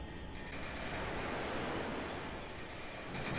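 A steady, dense rush of water flooding into a sinking ship in the Floating Sandbox game, a broad surf-like roar that holds constant and loud throughout with no voices.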